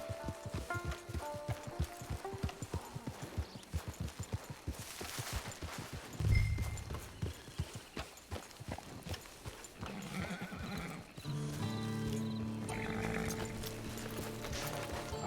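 Horse hooves clip-clop in a rhythmic run in the Red Dead Redemption 2 video game, with a sharp neigh partway through and game music swelling underneath toward the end.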